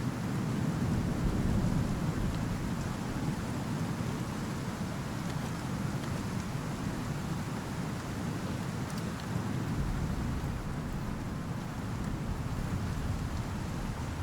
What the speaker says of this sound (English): Are you having fun, little storm?